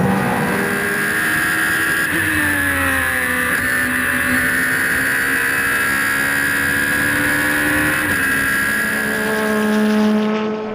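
Supercar Challenge race cars at the Assen circuit roar past close and loud, engines rising and falling through gear changes and braking with overlapping whines from several cars and no voices.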